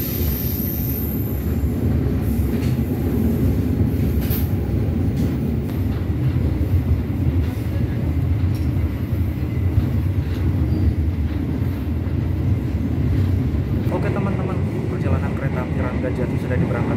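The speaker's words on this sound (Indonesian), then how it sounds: "kereta api Ranggajati kembali diberangkatkan tepat pukul" Ranggajati passenger train pulling out of Purwokerto station, a steady loud rumble of wheels and carriage noise throughout, with a voice talking over it.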